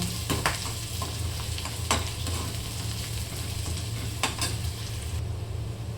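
Onions frying until brown in a pan for a shev bhaji curry, a steady close sizzle throughout with a few sharp stirring scrapes and clinks, no voices.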